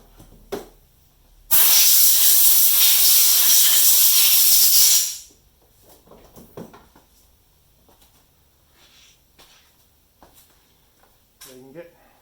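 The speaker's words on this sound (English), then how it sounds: "Just hit it with the air compressor" Compressed air from an air compressor blows dirt out of a Honda HRU196 mower carburetor in one loud, steady hiss lasting about three seconds, with small clicks and handling noises before and after.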